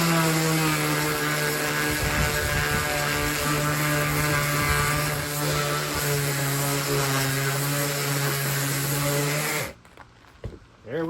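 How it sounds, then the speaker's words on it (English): A power sander runs loud and close over the roof of a chainsaw-carved wooden bird cabin, a steady droning whir with a strong tonal hum that stops abruptly near the end, followed by a few soft handling sounds. "now we just take the sander"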